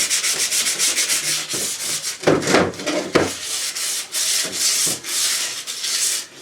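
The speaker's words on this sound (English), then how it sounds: "I've switched over to the 240 grit now, just a bit of fine tuning, smooth it off slightly." Car bodywork on a bash plate project is hand-sanded with 240-grit sandpaper, a steady run of close, loud rasping strokes with a few heavier scrapes in the middle.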